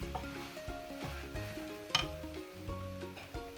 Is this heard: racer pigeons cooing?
no